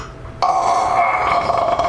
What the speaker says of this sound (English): You burp it.